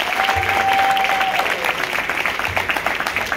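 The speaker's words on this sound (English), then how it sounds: "Can we give them a round of applause" Audience applause at a school ceremony with coaching staff and families present, a steady dense wash of clapping filling the whole stretch at close, even loudness.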